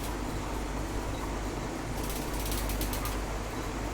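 A hand ratchet clicks rapidly while tightening bolts on a Ford Flex, a dense run of close metallic pawl ticks over steady background noise, with a sharper, faster burst midway.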